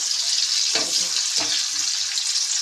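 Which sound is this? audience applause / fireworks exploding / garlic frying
garlic frying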